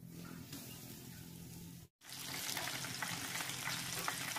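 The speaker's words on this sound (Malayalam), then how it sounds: "ഇതിലേക്ക് ഓയിൽ ഒഴിച്ചു കൊടുക്കാം. ഇതിലേക്ക് ചിക്കൻ കഷ്ണങ്ങൾ ചേർത്ത് കൊടുക്കാം." Chicken pieces hit hot oil in a frying pan: a soft simmer, a brief silent cut, then a loud, steady, close sizzle that carries on to the end.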